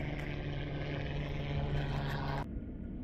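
A helicopter flies overhead on a hiking trail, its steady, droning rotor and engine noise filling the air before cutting off sharply near the end.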